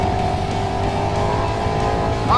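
A Ducati Panigale V4S sport motorcycle pulls hard in second gear, a loud, steady engine drone with a rising whine near the end, heard from the rider's position with no talk.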